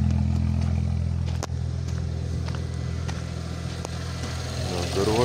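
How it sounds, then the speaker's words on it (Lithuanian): A BMW E93 335i that sat unused for a long time idles close by, giving a steady low engine hum with faint ticking from the hydraulic lifters and occasional sharp clicks, without speech. "Šnekas kremoliukai šiek tiek, pažiūrėsim, gal nutils, nes ilgai stovėjo."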